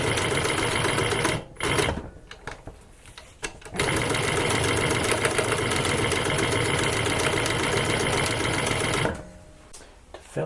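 Bridgesew PB 335 cylinder arm walking foot sewing machine with a servo motor, running in long steady bursts with a fast rhythmic mechanical whir and clatter, briefly stopping twice early on and again near the end.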